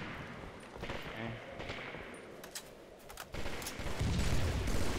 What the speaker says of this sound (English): Shooting Fonzie right now